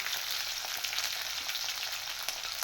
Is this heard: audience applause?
no